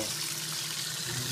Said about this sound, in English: Oh, look! There's water flow.